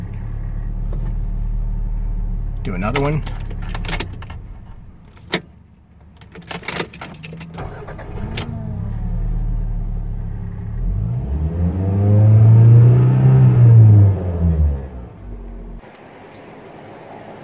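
A 1993 Toyota MR2 engine given hot starts, with clicks and key jangles, cranking and catching, then a rising and falling rev swell near the end before cutting off; a voice speaks briefly.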